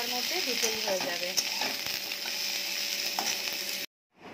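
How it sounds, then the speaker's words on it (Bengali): Mixed vegetables cook in a pot for a thin ginger-cumin curry, giving a steady close sizzle and bubbling hiss with faint clinks, which cut off abruptly near the end. "আর এদিকে আমি সবজিটাও বসিয়ে দিয়েছি"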